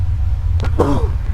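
A single sharp sneeze bursts out over a steady low hum, followed by a brief voiced sound.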